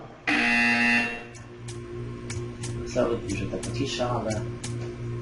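A loud electronic buzzer blares for about a second in the video game Portal 2, followed by a voice talking over faint background tones.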